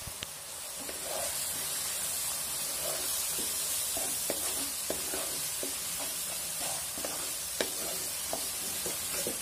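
Ground turmeric, red chilli, coriander, cumin and salt sizzle and hiss steadily in a hot pan for a rohu fish curry with potato, aubergine and lentil bori, with occasional stirring scrapes and spatula taps.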